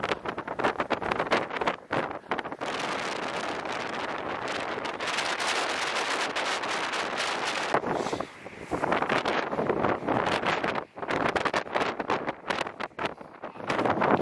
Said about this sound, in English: I don't know if you can hear me over this wind.